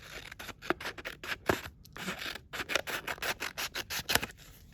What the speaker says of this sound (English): I'm cutting this right along the fold.